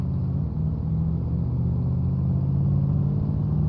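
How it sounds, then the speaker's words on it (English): A go-kart engine in the video game DayZ gives off a steady, loud low rumble that holds without a break, with a droning hum beneath it and no voices. "Recently, Fortune put in go-karts"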